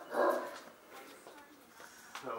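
A dog greets people indoors with a short yip at the start, followed by softer whimpering sounds under casual talk.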